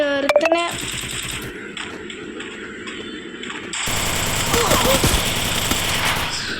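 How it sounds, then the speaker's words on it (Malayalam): Automatic gunfire in the Free Fire Max shooter game, rapid bursts of shots in quick succession, a short sharp volley at the start and denser sustained firing in the second half, loud and close. "വെടി"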